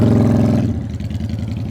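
A motorcycle engine during slow-speed riding practice, revving and settling into a steady mid-pitched idle with a loping, pulsing exhaust beat, heard up close with no talk.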